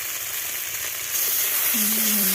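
Spices frying in a pan for a fish-style curry made without fish, a continuous near hiss that swells louder midway, with a faint tonal hum appearing toward the end.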